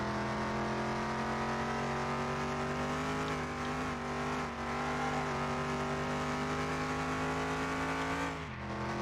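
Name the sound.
car driving a lap in Car Mechanic Simulator 2021, video game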